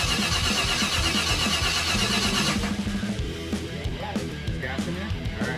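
A 1956 Chevy truck engine cranks and catches on its first start-up attempt, a loud, steady mechanical roar that settles into a rougher idle, close by.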